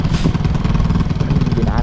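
A white motorcycle's engine runs with a low, steady chugging throb, heard up close beneath someone talking over it.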